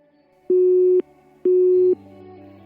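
A phone busy tone after a call is cut off: two loud, steady beeps of about half a second each, evenly spaced, followed by faint background sound.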